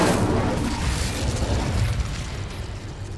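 Fiery spell blasts in the Hogwarts Legacy video game, a dense, roaring explosive burst with heavy low rumble that fades gradually over a few seconds, with no talking.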